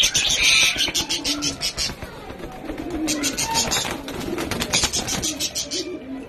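Pigeons cooing at a pigeon farm, several birds giving soft repeated coos close by, with chirps and other bird calls mixed in, continuing steadily throughout.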